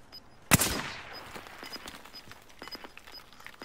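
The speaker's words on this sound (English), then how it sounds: "Your gun is mad loud" Gunfire in a Warzone Caldera match: one sharp, loud shot opens a burst that rings out, followed by scattered fainter pops and clatter in the background.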